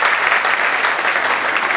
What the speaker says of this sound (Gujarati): એટલી જ આપણે તાળીઓ પાડી ભાવનાબેન માટે